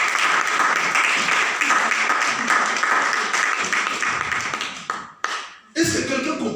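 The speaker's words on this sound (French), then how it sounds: "Est-ce qu'on peut acclamer pour Jésus?" A church congregation applauds and cheers for Jesus, dense, loud sustained clapping with shouts that fades and breaks off into scattered claps near the end.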